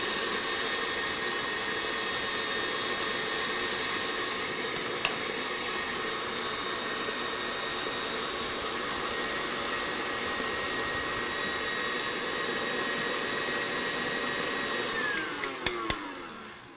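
An electric mixer whisks yellow cake batter made with vegetable oil at high speed, a loud, steady whirring drone that runs unbroken and close, with a few clicks before it winds down at the end.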